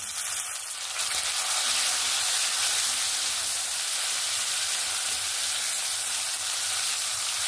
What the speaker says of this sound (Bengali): টমেটোটাকে 1 মিনিটের মতো ভাজা ভাজা করে নিয়েছি।